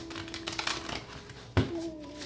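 A deck of tarot cards is shuffled close by, with soft riffling and flicking bursts, a sharper slap partway through, and faint tonal hum underneath.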